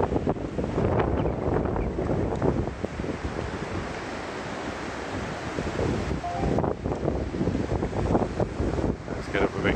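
Strong wind gusting outdoors on a countryside walk near a waterfall, heavy rumbling buffeting that roars against the microphone almost continuously for ten seconds.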